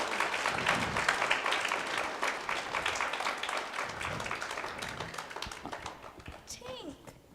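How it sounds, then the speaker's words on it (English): An audience claps and cheers for Tink at a Peter Pan musical performance, a dense, continuous wash of many hands that holds steady for several seconds before tapering off, with children's voices mixed in near the end. "Clap your hands if you believe in Tink."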